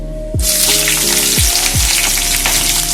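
Onions and green chillies drop into hot oil with mustard seeds and set off a sudden, loud sizzle that keeps up a dense, steady crackle over a faint background hum.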